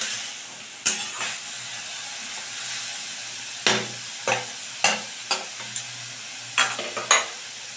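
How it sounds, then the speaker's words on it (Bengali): Cabbage sauce with chilli powder being stirred in a pan, with a low sizzle underneath and a series of sharp spoon scrapes and knocks against the pan, spaced irregularly. "আবার আমি ভালো করে মিশিয়ে দিচ্ছি।"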